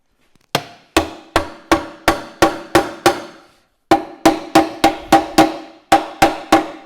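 A hammer strikes a failed Mercedes 2.7 CDI engine in a recovery truck in steady, ringing taps, about a dozen blows in two runs separated by a brief pause, close and clear.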